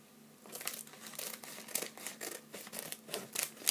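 Scissors cutting open a Kracie Popin Cookin candy packet, a run of close, crinkly plastic snips and rustles in a steady uneven rhythm, quiet and alone without talk.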